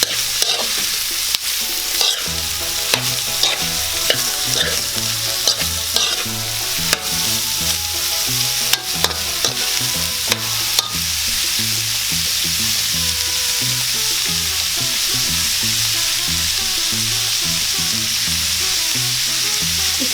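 Boiled beef heart being stirred and fried in a pan for paklay with lemongrass, a steady close sizzle running throughout with repeated scraping stir strokes and sharp utensil knocks against the pan.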